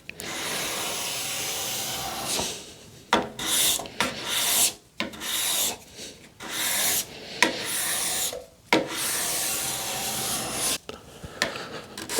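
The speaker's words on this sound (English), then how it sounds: "the great thing about using a scraper is you can take away a lot of material in a short amount of time" A hand scraper strips wood from a staircase in repeated rasping strokes, each a loud, close, hissing scrape separated by brief pauses.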